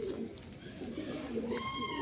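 Pigeons of the Malwai breed coo softly and close by in a short, steady low murmur, with faint chirps over light background noise.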